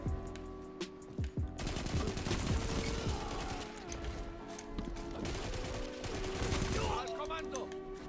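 Rapid automatic rifle fire from Destiny 2, sustained bursts of closely spaced shots with mechanical clatter, loud and near, running almost continuously with brief pauses between strings.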